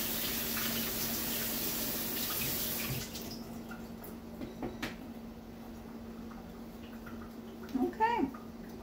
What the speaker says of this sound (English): I'm just going to rinse them off a little bit in the strainer.